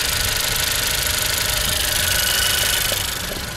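Engine of a used Japanese car, a flood-damaged import at a Vladivostok car market, idling with a steady, even mechanical hum and faint knocking texture throughout, no talking.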